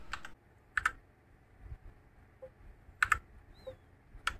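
Typing on a Fantech MK853 mechanical keyboard with red linear switches, heard as sparse, close clusters of soft key clacks separated by quiet pauses, with no talking.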